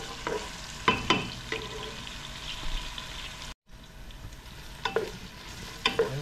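Garlic and onion sauté in a pan for tinola, a soft steady sizzle broken by several sharp scrapes and clinks of a stirring utensil.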